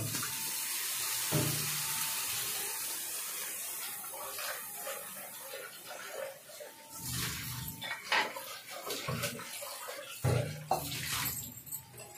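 Water is poured into a pan of curry, with bursts of running, splashing liquid and a few metallic pan clinks, heard close and fairly quiet.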